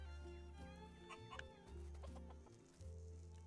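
Chickens cluck repeatedly in Dinkum, a farming game set in the Australian outback, with soft, irregular clucks layered over a steady low ambient drone.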